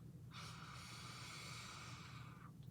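A long, steady nasal inhale through a nasal inhaler, a deep breathy sniff lasting about two seconds over a low background hum.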